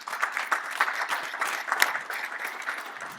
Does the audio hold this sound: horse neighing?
no